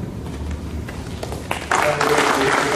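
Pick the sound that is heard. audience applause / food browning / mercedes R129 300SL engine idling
audience applause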